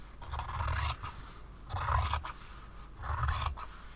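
Scissors trimming the fabric edges of a patchwork book cushion, three bursts of close snipping and rasping cuts, each about a second long, separated by short pauses, with no talking.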